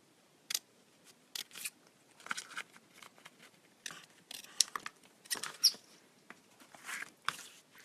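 Paper being cut with scissors while making a Bible journaling treasure envelope, a series of crisp close snips in irregular short bursts with quiet pauses between them and no talk.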